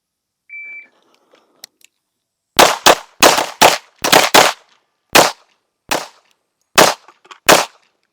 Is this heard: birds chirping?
no